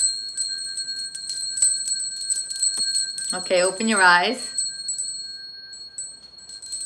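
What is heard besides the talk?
small chime ringing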